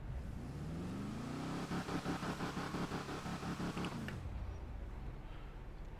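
A car with an altered exhaust note made to sound like a V8 idles with a steady low rumble and purr, close by, before the tone thins out in the last couple of seconds.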